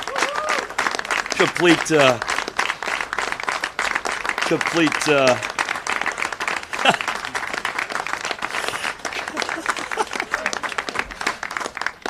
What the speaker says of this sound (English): fishing for applause on my part there, so just glad to see it worked